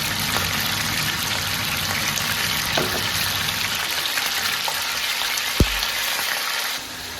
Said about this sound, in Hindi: तो वीवर्स, ऑयल जैसे ही गर्म होगा इसमें हम चिकन ऐड करेंगे।